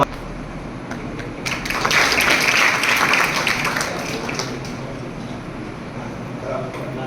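Audience applause at a school function in Damavaskampa, Khedbrahma taluka, Gujarat, building into a dense wash of clapping mid-clip, then fading slightly, with voices talking over it.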